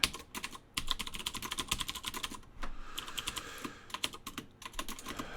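Steady, rapid typing on a computer keyboard, close and fairly loud, with dense clustered keystrokes and a brief pause partway through, no voices.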